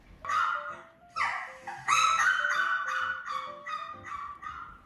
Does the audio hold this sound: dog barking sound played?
yes